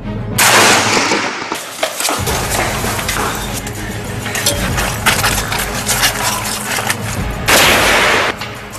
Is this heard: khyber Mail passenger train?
no